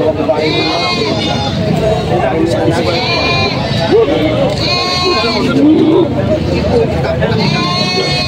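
Several goats bleat repeatedly, close by, at a goat market in Padre Garcia, Batangas, over a steady background of people talking and farmyard noise.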